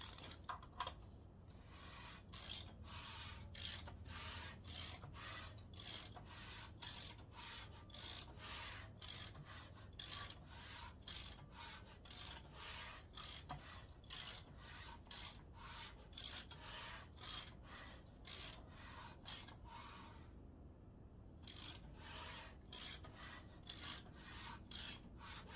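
Engine crankshaft of a 460 block, fitted with piston rings, turned over by hand: a steady series of rasping, ratcheting strokes repeating in an even rhythm, close and moderately loud, with no talking.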